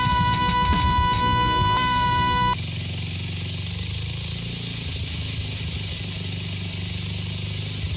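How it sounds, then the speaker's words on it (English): A 1966 Simplicity Sovereign lawn and garden tractor with a Briggs points-ignition engine runs steadily, first with a brief burst of clatter and tonal whine, then settling into a low, even idle that continues alone. "That's a nice low idle."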